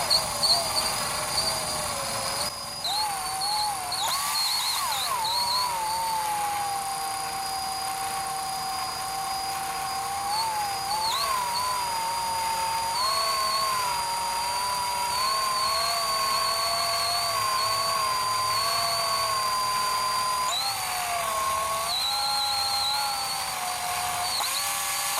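A power drill spinning steadily to pull wire through a factory sound bar from a Jeep Wrangler YJ during a refurb, a continuous whining motor drone that shifts pitch slightly as the load changes, close and unbroken.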